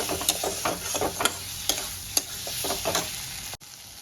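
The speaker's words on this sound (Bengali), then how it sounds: "এবার আমি ভেজে রাখা আলুটা দিয়ে কষাবো। 5 মিনিট মতো সুন্দর করে মশলার সঙ্গে আলুটা দিয়ে আমি কষিয়ে নেব।" Fried potatoes are stirred with spices in a hot pan for a homestyle Bengali chana dal dish: a constant close sizzle under quick, rhythmic scraping strokes of a spoon.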